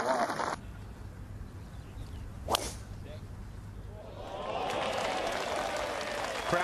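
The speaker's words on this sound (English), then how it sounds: "Crowd like it, Trish." Crowd applause at The Open Championship swells after a swishing golf shot, clapping and cheering rising broadly and holding steady toward the end, heard from a distance.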